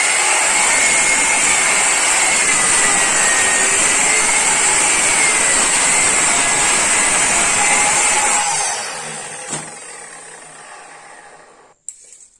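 A Stanley SM18 sliding miter saw cuts through a 34 cm wide wooden board, its loud steady whine running alone for about eight seconds before spinning down and fading, with a brief clack near the end.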